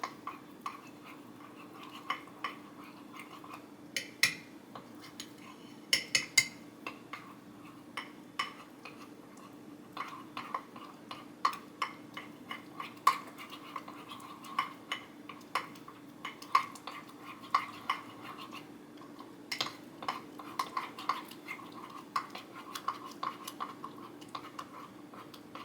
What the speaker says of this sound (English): So go ahead and mix it all up.